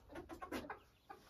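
Hens on a small farm cluck in their coop at night, a few soft, quick bursts of clucking heard faintly and from some distance, without talk.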